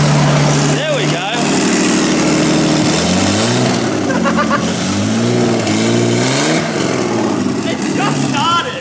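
Nissan Skyline R32 barn-find restoration engine revving hard, loud and close, with rising and falling rev sweeps over a rough idle, voices talking over it.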